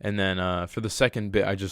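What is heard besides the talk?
No everyday noise stands out behind the speech.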